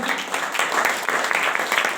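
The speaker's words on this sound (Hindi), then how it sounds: "जोरदार जोरदार जोरदार हाथ ताली से स्वागत।" An audience at an evening program in Ambikapur applauds to welcome guests, a dense, continuous wash of clapping at moderate distance with slight swells, lasting a couple of seconds.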